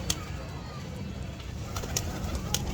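A golden, pure-bred female pigeon coos in low, soft murmurs against a steady, faint background, with a few brief higher chirps near the coop.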